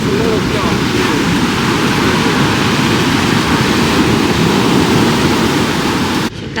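Steady broadband surf from ocean waves rolling onto a beach at Uluwatu, Bali, a continuous loud wash with wind on the microphone, fairly constant throughout before dipping slightly at the very end.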